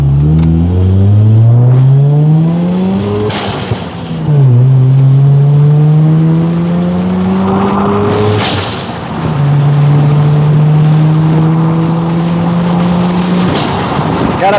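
A turbocharged 1987 Mazda RX7 FC rotary engine revs hard and loud up close, climbing in pitch through several long pulls with brief drops between them.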